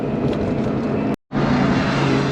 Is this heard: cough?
no